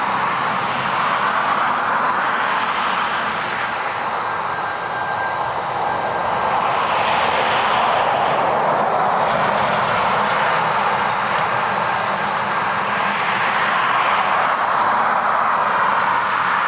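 Steady, loud jet engine roar of an airplane at Dublin Airport, a broad continuous rumble and whine with slight swells that holds for the whole stretch, with no talk.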